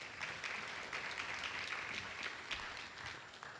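Faint applause from an audience at a legislative academy event honouring athletes, an even patter of clapping throughout with no speech over it.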